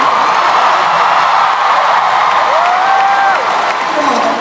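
Audience applause fills a comedy concert hall, a steady dense wash of clapping from a large crowd that holds at a constant level throughout, with faint voices mixed in underneath.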